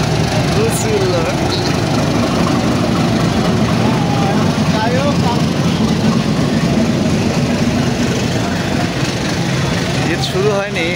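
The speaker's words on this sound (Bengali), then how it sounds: "একটা ট্রেন আসতেছে" A train arrives at a crowded station, a heavy continuous rumble of engine and rolling wagons with squealing metallic tones, loud and close beneath a constant wash of many voices talking in the crowd.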